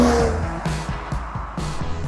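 Mercedes-AMG CLS 53 launching hard in Sport Plus mode, the engine note climbing loud and near in quick rising sweeps, broken by brief gearshift dips as the car pulls away.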